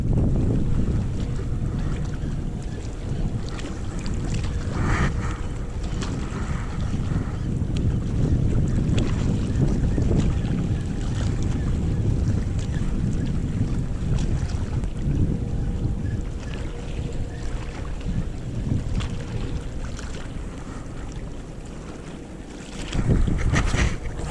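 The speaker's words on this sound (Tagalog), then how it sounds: "Medyo mahangin" Steady wind gusts buffet the microphone over open blue sea water while fishing, with a low continuous rumble and occasional splashes, loud and close throughout.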